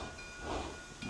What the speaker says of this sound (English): Blow out some steam.